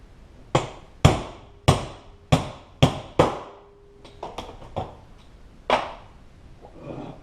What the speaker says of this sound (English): I'm just going to drive this bushing through.